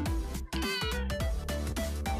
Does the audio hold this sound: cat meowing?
yes